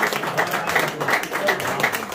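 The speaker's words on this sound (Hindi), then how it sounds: "एक दफा भरपूर तालियां बजाएंगे साथ में।" Audience applause at an Urdu poetry mushaira evening, a steady wash of many hands clapping at moderate loudness throughout, with some speech-like murmur mixed in.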